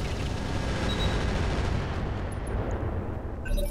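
Incendiary weapons firing in the mech game Roguetech: a steady, loud roar like a dense barrage that rumbles without a break, with a few faint high beeps near the end.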